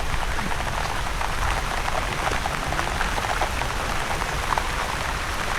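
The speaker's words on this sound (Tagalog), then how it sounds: "Ayaw tumigil ng ulan." Steady, dense rain pouring down, a continuous hiss of drops hitting a surface with no pauses, fairly loud and close throughout.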